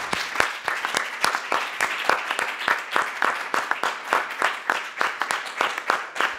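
Audience applause at the close of an ECMO club meeting, a steady run of sharp overlapping claps from a room full of people, sustained evenly throughout with no talk over it.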